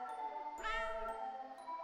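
A cat meows once, a short rising-and-falling cry from inside the video game Tokyo Dark, clear and close over a steady background music bed.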